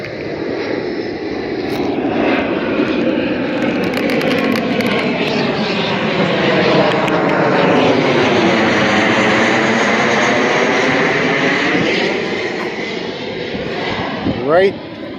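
A fixed-wing aircraft passing just outside an airport, a loud, sustained engine roar that swells and shifts in pitch as it goes by, heard close and without talk.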